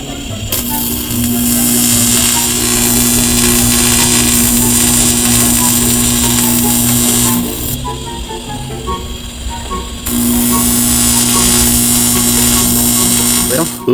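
TIG welding aluminum in a home workshop: a loud, steady electric buzz with a strong constant hum, cutting out for a couple of seconds and then restarting, with someone speaking over it.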